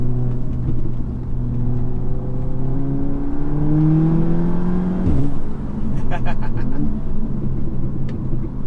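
A tuned Audi S3 engine accelerates hard along backroads, its close, loud drone rising steadily in pitch through the gears, with a brief shift break and crackles midway.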